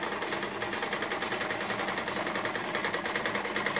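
An old sewing machine runs steadily and continuously, a dense, even mechanical whir with rapid rhythmic clatter throughout, close and fairly loud with no talking.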